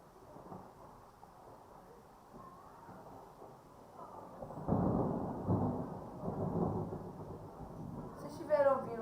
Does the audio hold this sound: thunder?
yes